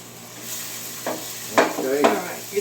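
A spoon stirs bay leaves in a hot pot for a mushroom tikka masala, with a steady background sizzle and three distinct scraping strokes close by.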